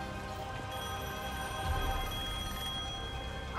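A telephone in a phone booth rings in Devil May Cry 5, a sustained metallic bell tone with steady harmonic ringing, moderately loud and heard alone without speech.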